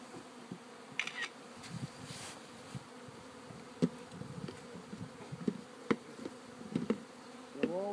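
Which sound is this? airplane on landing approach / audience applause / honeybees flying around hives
honeybees flying around hives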